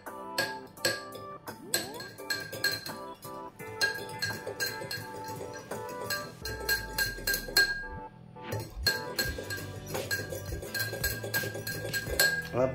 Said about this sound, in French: je vais remuer un peu pour diluer ma levure dans mon eau tiède